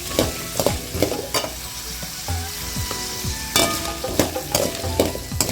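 Onions with chilli and garlic sautéing in a pan for spicy onion chutney, a steady close sizzle broken by repeated scraping stirs of a spoon against the pan.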